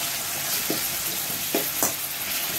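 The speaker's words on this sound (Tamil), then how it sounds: "கடுகு பொரிஞ்சிருச்சு, தக்காளி தக்காளி கொஞ்சம் வதங்கட்டும்." Tomatoes sauté in hot oil with spluttered mustard seeds for rasam, a steady bright sizzle with a few soft stirring scrapes from a spoon.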